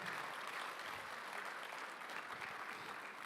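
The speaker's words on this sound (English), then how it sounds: "clap your hands for Hamag Bikro and all the partners who had you here" An audience at a startup acceleration program event in Zagreb applauds, dense steady clapping filling the room for a few seconds without a break.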